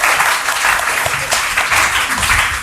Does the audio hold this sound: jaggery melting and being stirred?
no